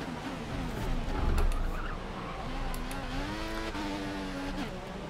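A 2014 Formula 1 race car in the F1 2014 video game, engine revving and shifting with rising and falling whines, a tire squeal and a few knocks, loud and close.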